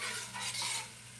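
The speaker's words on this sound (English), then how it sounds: "I'm going to pour a little bit of this boiling hot water, a little bit to this container that we had our fresh vegetables in." Boiling hot water poured into a kitchen container that held fresh vegetables, giving a steady close splashing rush that swells and eases over about a second, with no talking.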